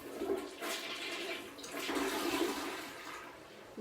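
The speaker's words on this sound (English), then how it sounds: "Okay, let me flush." A toilet flushes after a bowl cleaning, with a close, loud rush of water that surges twice and then drains away, and no voices over it.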